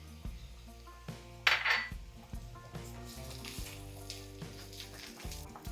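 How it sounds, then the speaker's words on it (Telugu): Ridge gourd peel and sesame seeds fry in a pan with a soft, continuous sizzle. A few clinks of a utensil against the pan and a louder scraping burst come through over soft background music, with no talk. "ఇందులో ఇవన్నీ వేసి వేగేటప్పుడే కొంచెం నువ్వులు కూడా వేసేస్తున్నాను"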